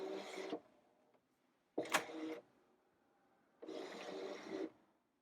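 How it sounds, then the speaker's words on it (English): An electronic cutting machine loads a cutting mat, giving three short mechanical whirring bursts with quiet pauses between them, close by and with no talking. "So now I'm ready to load this into my machine."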